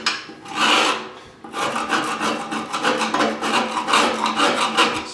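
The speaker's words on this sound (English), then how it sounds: "using a flathead screwdriver like this, right? Just scrape out all this stuff." Flathead screwdriver scraping an old glued-on gasket out of a woodstove door, a burst of harsh rasping strokes, a brief pause, then steady continuous scraping, close and fairly loud with no talk.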